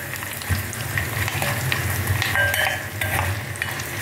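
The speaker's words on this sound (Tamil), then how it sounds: "மிளகா வத்தல் பெருங்காயம் கட்டி பெருங்காயம் சிம்மில் வச்சுட்டு கருவேப்பிலையை போடுறேன்." Dried red chilies, a lump of asafoetida and curry leaves sizzle in hot oil on a low flame, a steady crackling hiss with occasional sharper pops and scrapes of a stirring spoon.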